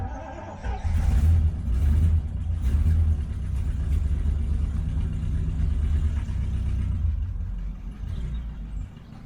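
A Triumph Stag engine runs with a deep, steady rumble close by, rising as it revs in the first seconds and then holding a rough, even note that eases slightly toward the end.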